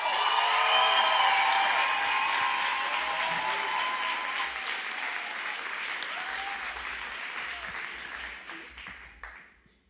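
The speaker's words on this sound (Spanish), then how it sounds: "quiero que reciban con un fuerte aplauso a alguien muy amado en Latinoamérica" Loud applause from a concert audience welcoming a Christian singer onto the stage, sustained and dense for most of the stretch before gradually thinning and fading at the end.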